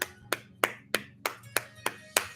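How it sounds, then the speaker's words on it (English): A single person clapping hands slowly and evenly, eight crisp, close claps in a quiet room with no talking. "and I want to clap for you."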